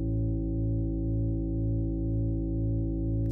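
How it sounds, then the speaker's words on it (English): Synthesizer tone built from high-speed modulation of a couple of closely related frequencies, giving a deep, resonant bass drone with a slow, steady pulsing beat, sustained and alone throughout. "It's kind of a nice, deep bass sound"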